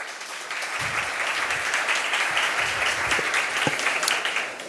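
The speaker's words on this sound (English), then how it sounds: "Can we give them applause?" A forum audience at a Brazilian philanthropy event breaks into sustained applause, a dense, even clatter of many clapping hands with a few louder claps standing out, fading slightly at the end.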